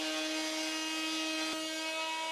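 A FEIN MultiMaster 350 Q oscillating multi-tool, mounted in a fixed bench holder, sawing through wood with a steady, loud, high-pitched buzzing drone and a brief click midway.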